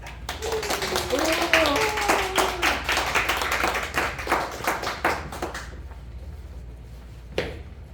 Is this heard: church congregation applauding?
yes